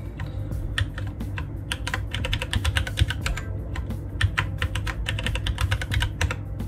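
Keystrokes on a computer keyboard while a password is entered during a Windows Server 2025 installation, a steady run of quick close clicks in bursts over a low constant hum, with no talking.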